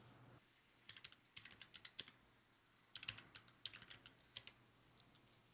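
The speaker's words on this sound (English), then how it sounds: "I use the Keychron K3 mechanical keyboard with cherry brown keys." Keystrokes on a Keychron K3 mechanical keyboard with Cherry Brown switches, quiet and close, arriving in irregular bursts with short pauses between clusters of taps.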